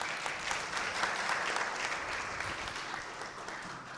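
An audience at a university startup competition claps for a few seconds, a moderately quiet, steady spatter of hands from a modest crowd.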